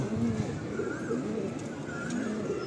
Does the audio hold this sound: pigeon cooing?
yes